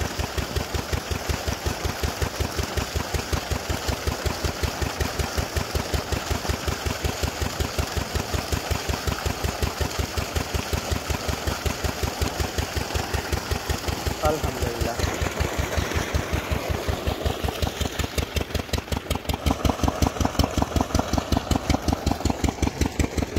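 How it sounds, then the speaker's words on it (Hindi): A heater engine runs outdoors near a village, chugging in a fast, even rhythm at close range. The beat stays loud and steady throughout and picks up slightly near the end, with no talking over it. "ये देखें सामने जो है हीटर इंजन चल रहा है"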